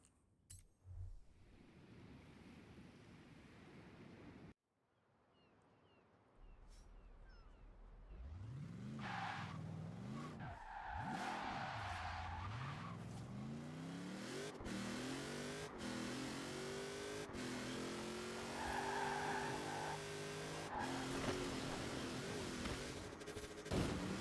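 A Hoonigan RS200 rally car in the Forza racing game revs hard and skids, engine pitch sweeping up and down through gear changes with tire screeches and sharp impacts, loud and continuous after a quiet menu start.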